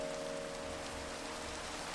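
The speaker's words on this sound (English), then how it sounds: "Now, it's raining." Steady rain in Minecraft during a hardcore survival run, a constant soft patter of game rainfall with a faint tonal hum beneath, continuous and even across the short stretch with no voices.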